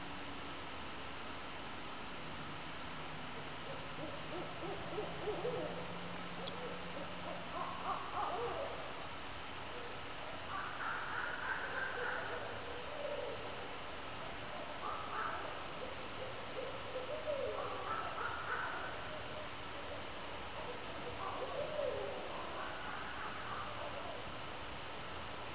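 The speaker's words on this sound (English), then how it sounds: "I know it's just owls" Owls hooting repeatedly in short bursts at night over a steady hiss of background noise, the calls moderately distant and fairly faint, with no talking.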